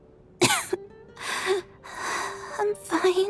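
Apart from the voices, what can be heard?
Tonya coughing in the video game Genshin Impact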